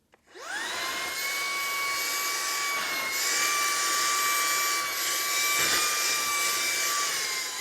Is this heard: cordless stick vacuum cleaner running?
yes